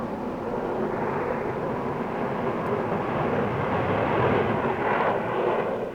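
Squadron of Hercules long-range transport aircraft flying over a 1960s air show, a broad droning propeller roar that swells slightly toward the end, steady and moderately distant, with no voices.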